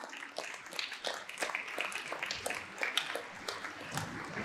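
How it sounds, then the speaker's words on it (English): Audience applause at a primary school PYP 5 graduation ceremony, a steady wash of many hands clapping from a seated crowd, moderately loud and sustained throughout with no voices on top. "Let's give a big round of applause for that enlightening TED Talk"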